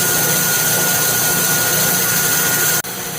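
A Laguna 18-inch bandsaw fitted with a 1-inch Resaw King blade runs steadily, giving a loud, constant mechanical drone with a high whine, then briefly dips near the end as a workpiece is fed through.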